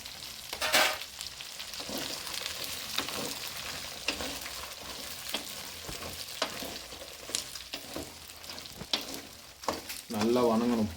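Onion and garlic sautéing in oil until golden, a continuous close sizzle broken by repeated stirring scrapes and clatters, with a voice briefly speaking near the end.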